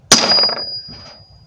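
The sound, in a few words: hammer striking a metal punch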